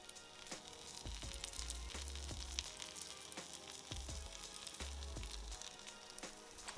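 Pancake batter cooks on a hot griddle with a soft, continuous sizzle, while intermittent low thumps and scraping knocks come from the pan every second or so.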